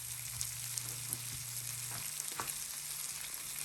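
Beef sliders sizzle in a pan with a continuous, even fry hiss and scattered small pops and crackles, fairly quiet and close, with a low background hum and no talking.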